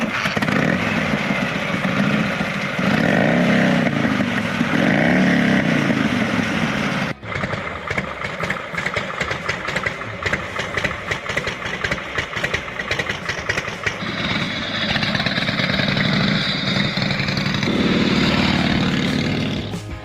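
A panhead motorcycle engine runs close by, first a loud steady idle, then a sharp cut into a rapid choppy revving throb that rises and swells again toward the end.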